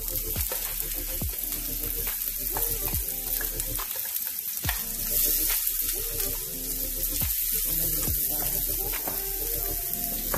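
Chopped vegetables fry in oil in a pan for a Dominican stewed eggplant dish, giving a steady, close sizzle with occasional stirring clatter and no speech.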